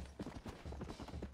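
A horse's hooves clip-clop in Red Dead Redemption, a quick rhythmic run of hoof strikes at a steady gait, fairly faint and close, with no talk over them.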